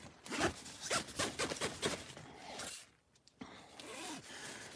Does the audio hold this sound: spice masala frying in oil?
no